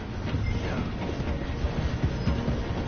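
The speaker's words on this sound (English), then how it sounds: "The train is slowing down to go through the station." A train in Red Dead Redemption 2 rolls slowly through a station with a low, rumbling clatter of wheels and carriages, a steady nearby sound with no talk.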